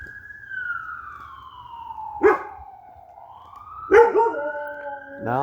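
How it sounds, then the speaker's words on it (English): Emergency siren wailing outdoors on a street walk, a slow rising and falling tone at moderate distance, broken by two sharp dog barks nearby and a brief yelp at the end. "I've got dogs barking, I've got sirens"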